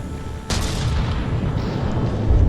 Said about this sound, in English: It's slowly kiting away and chipping away with its APS guns.